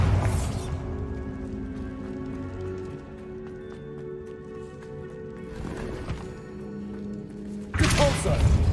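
A Bombarda spell blast in Hogwarts Legacy goes off as a sudden, loud burst near the end, preceded by another burst at the start with humming game ambience in between.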